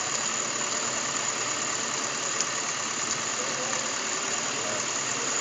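A Suzuki Escudo engine fitted with a Kijang 5K carburetor idles steadily and evenly, a constant close mechanical hum with faint ticking, running alone without voices.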